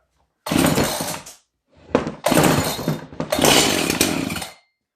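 An Echo CS-590 chainsaw is pull-started, with three loud, close bursts as the engine sputters and catches briefly on each rip of the cord, separated by short silences.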